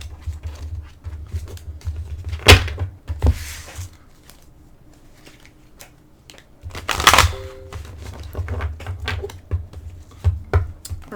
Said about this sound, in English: Okay, I shuffled the cards. Let me just do them once more on camera.